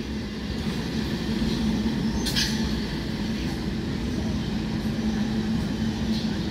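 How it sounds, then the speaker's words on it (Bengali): An up Naihati–Bandel local train runs toward Bandel Junction with a steady, loud low rumble and rolling wheel noise, continuous throughout and heard from close by. "Up Naihati Bandel local train Bandel junction অভিমুখে যাচ্ছে।"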